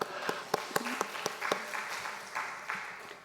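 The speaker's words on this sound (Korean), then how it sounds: "네, 한번 박수 주겠습니다." Members of a church congregation at a Sunday afternoon service clap, starting with a few sharp distinct claps that thicken into a brief scattered round.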